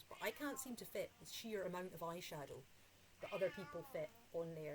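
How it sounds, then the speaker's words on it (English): A noisy pet cat meows loudly indoors, its repeated calls mixed with someone talking steadily over them. "That's my cat. She's very noisy."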